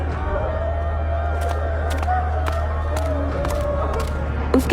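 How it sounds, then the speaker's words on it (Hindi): A sizable crowd stands gathered around a house, with a steady murmur of many voices and occasional sharp clatters and knocks breaking through the continuous low hum of the gathering. "रामदीन के घर के आसपास काफी भीड़ जमा थी।"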